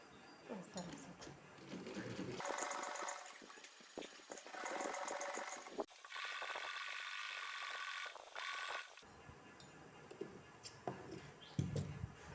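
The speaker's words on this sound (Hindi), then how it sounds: "तो चलिए हम यहाँ पर अपनी एक लंबी चाल की सिलाई अब लगा लेते हैं" A sewing machine runs a long basting stitch through cotton cloth in two sustained whirring bursts, with someone talking before, between and after them.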